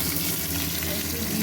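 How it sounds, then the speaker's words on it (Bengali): Dried red chilli and a bay leaf sizzle in hot oil for a dal tempering, giving a loud, steady frying hiss that fills the short moment with no pause. "একটু শুকনো লঙ্কা দিলাম, তেজপাতা দিলাম,"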